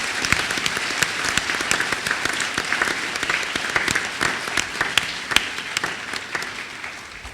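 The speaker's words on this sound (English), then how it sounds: "Let's give all of our volunteers a round of applause." An audience at a naturalization ceremony applauds volunteers, a dense, steady patter of many hands clapping throughout, loud and continuous without talk.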